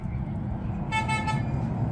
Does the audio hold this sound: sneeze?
no